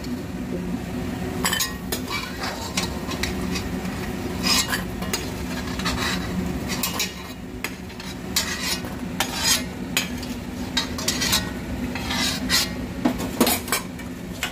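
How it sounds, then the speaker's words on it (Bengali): Lentil dumplings (bori) fry in hot oil in a pan while a metal utensil stirs them, with repeated scraping and clinking over a soft, steady sizzle, close and fairly loud. "বড়িগুলো একটু লাল লাল করে ভেজে দেবো"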